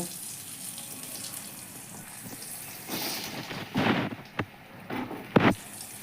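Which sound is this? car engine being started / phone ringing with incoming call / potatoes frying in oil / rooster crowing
potatoes frying in oil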